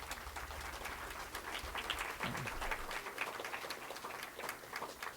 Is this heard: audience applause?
yes